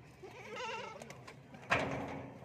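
Goats on a goat farm bleat in a wavering, quavering call of about half a second, followed by a sharper, louder bleat near the end, close by against low background noise.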